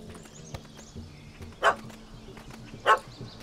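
Two loud, sharp dog barks from a video game, The Witcher 3, ring out about a second apart over a low ambient bed, a dog barking at a cat up a tree.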